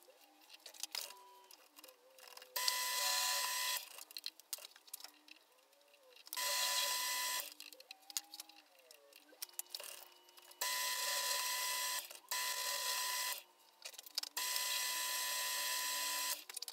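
A metal lathe cuts threads on an M42 to EF/EFS lens adapter, its motor whining up and down between loud stretches of harsh, steady cutting noise that start and stop several times, close by.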